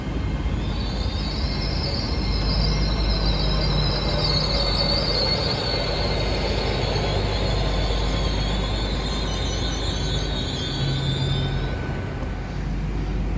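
An IET train passing through Totnes station, a steady rumble of wheels and running gear with long, high-pitched wheel squeal drawn out over most of the passage, loud and close, with no talking.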